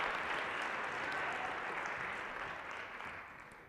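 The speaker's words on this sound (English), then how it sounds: "Now give these guys a round of applause." Audience applause at a school convocation: steady, dense crowd clapping heard faintly from a distance, slowly dying away with no voices.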